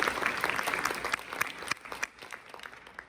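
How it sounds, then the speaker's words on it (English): An audience applauds loudly for a man after a spoken congratulation, dense clapping filling the room and then thinning toward a scattered, lighter finish. "Give him a round of applause for that."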